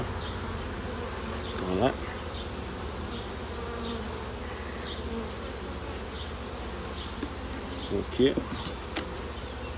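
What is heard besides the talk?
honeybees buzzing around a small queen-rearing colony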